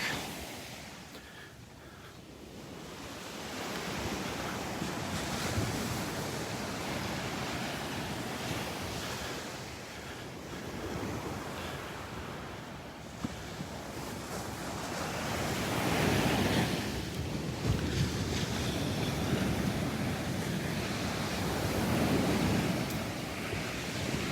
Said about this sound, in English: Look at those waves. Beautiful. Beautiful to look at and listen to